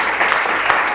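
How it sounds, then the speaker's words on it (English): Brief burst of audience applause at a 2016 talk on hormones, a dense, steady wash of clapping that fills the short moment at an even loudness. "Big round of applause"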